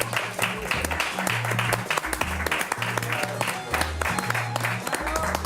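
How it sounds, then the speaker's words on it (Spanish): Studio audience applause for the magician Mago Llorens on a Spanish TV show, steady clapping throughout under a low musical bed and possible voices. "Un aplauso"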